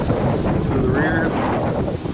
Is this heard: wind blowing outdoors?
yes